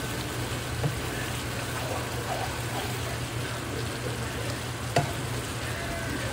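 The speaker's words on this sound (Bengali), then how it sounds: "দেখুন মশলাটা অনেকটা কষানো হয়ে গেছে।" A spice masala, with ground yogurt and cashew paste, fries in a pan and is stirred, a continuous dense sizzle with a couple of sharp scrapes, steady and close without talk.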